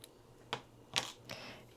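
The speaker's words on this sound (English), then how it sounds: "I'm going to cut my thread" Scissors snip thread for a plush bag charm in three quick, crisp, close cuts against a quiet background.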